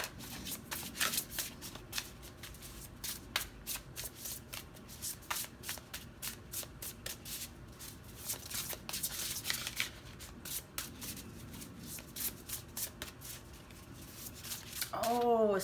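Tarot cards being shuffled and drawn from a deck, with repeated riffling bursts and soft card slaps, close and fairly quiet, continuing steadily while a person talks quietly in the background.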